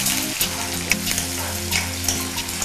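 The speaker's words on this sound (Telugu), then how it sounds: "వేసి కొంచెం బ్రౌనిష్ వచ్చే వరకు ఫ్రై చేసుకోవాలి." Onions and curry leaves fry in a pan with dried red chilies for a vegetable stew, a steady close sizzle with crackling spatter and occasional stirring, no voices.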